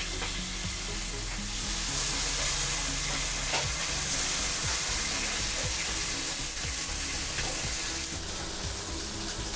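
Kola fish frying in a pan, a steady, close hiss of sizzling oil filling the whole stretch, with faint scrapes of stirring or turning beneath it.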